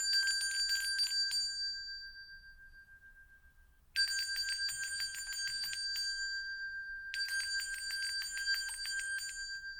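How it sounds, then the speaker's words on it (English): A bell rings in three long bright trills, the first fading out before two more start a few seconds apart, clear and alone with no talk. "Let's go ahead and ring that bell."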